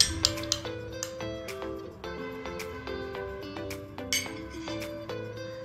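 Water being stirred into a cleaning paste in a small bowl, a spoon tapping and clinking against the sides in irregular close strikes with bright ringing tones.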